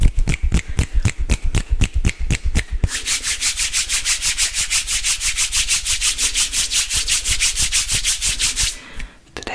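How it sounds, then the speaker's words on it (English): Hands rub and brush against a surface in close, loud ASMR strokes, first as a quick series of distinct swipes, then a long run of fast, even rhythmic rubbing before it fades out near the end. "my favorite topic, hand sounds and tapping sounds"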